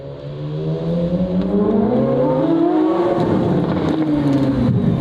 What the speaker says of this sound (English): It's a good sounding car.